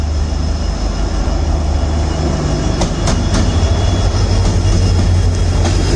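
A passing express train crossing at Kudal station alongside a WDP4-hauled train, a loud continuous rumble of wheels and wagons close by with occasional sharp rail clicks and faint squeals.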